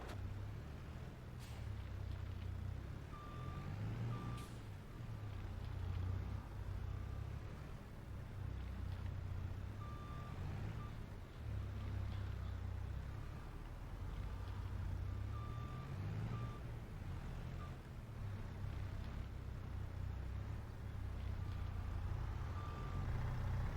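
Reversing beeps from a skid steer in the video game Farming Simulator 22, repeated in spaced bursts over a steady low engine rumble during lakeside landscaping work.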